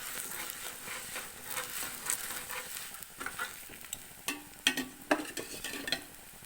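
A fenugreek paratha cooks on a pan with a little oil, giving a faint, close sizzle with soft stirring and scraping taps that grow busier toward the end.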